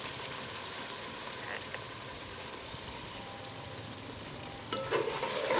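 Yogurt added to hot spiced oil and stirred while frying: a steady sizzle with scraping stir sounds runs throughout, then turns louder and sharper near the end as the yogurt hits the oil.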